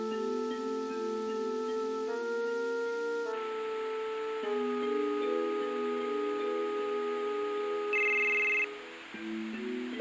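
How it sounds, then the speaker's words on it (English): Electronic phone ringtone in Final Fantasy VII, a repeating synthetic melodic ring playing clearly on its own with a brief bright chime near the end. "Phone's ringing."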